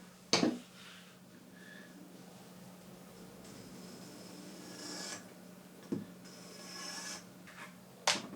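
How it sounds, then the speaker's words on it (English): A leather piece for a sling bag is scratched before gluing, a faint, close scraping and rubbing with a few sharper taps and handling knocks in between. "This will be glued here, so I will also scratch this."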